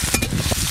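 Chopped onion hitting hot oil with whole dried chillies, garam masala and cumin for mutton curry, a loud, close, continuous sizzle with stirring, no voices.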